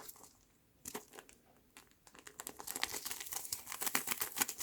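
A small paper surprise packet with a snowflake design is picked up and handled, giving soft intermittent crinkles that grow into louder, busier rustling and crackling near the microphone, no voices.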